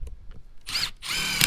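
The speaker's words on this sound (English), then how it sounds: "Always drill on a bit of an angle." A power drill whirs up in short bursts, spinning at high pitch close by while driving a ground anchor at an angle, with a brief pause between and a louder final run.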